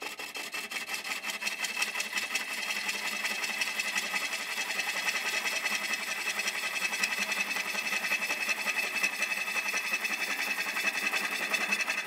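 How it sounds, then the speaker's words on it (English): A wood lathe spins an irregular-edged faceplate workpiece while a chisel cuts it in light passes, giving a continuous rapid scraping and rasping chatter at close range with no pauses. "when I approach the outside of this irregular edge workpiece, I have to use this hand, my fulcrum hand, to hold this chisel securely to the workpiece"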